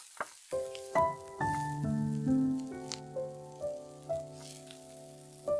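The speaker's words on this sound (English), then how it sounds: "put some oil in the pot, fry some garlic just until fragrant, and then add the deep fried pork" Deep-fried pork and garlic frying in oil in a pot, with a steady close sizzle, hiss and spatter punctuated by repeated clanks and scrapes of stirring against the metal.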